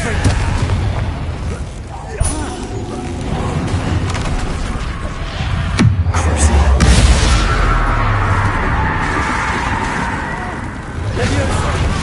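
A Confringo blasting spell erupts in Hogwarts Legacy, a loud booming blast near the middle with a rumbling tail, set against continuous game noise and voices.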